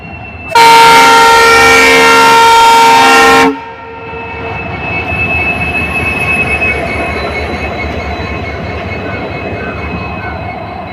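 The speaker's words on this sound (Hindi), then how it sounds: "लोको रिवर्सल हो रहा है भाई" A diesel locomotive on an Indian railway line sounds a loud, sustained horn blast for about three seconds during a loco reversal. A steady rumble of the train and rail noise follows, with a faint high squeal above it.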